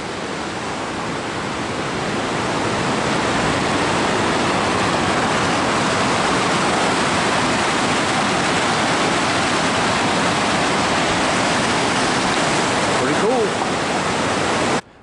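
Long Creek Falls pours in a steady, dense roar of falling water, loud and unbroken throughout, with no distinct voices standing out above the rush.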